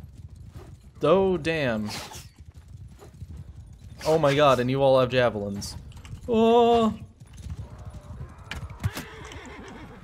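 Hooves clatter and horses whinny in a mounted battle in the video game Mount and Blade II: Bannerlord, the rapid clip-clop running beneath a man's excited exclamations.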